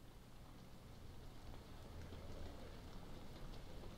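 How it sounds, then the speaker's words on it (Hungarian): Steady rain falling in the horror video game Amnesia, a continuous soft hiss that holds at an even, moderate level throughout with no voices. "Esik az eső"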